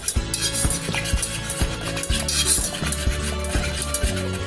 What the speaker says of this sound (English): As you are adding, you have to always stir, otherwise it will be seedy. You keep stirring.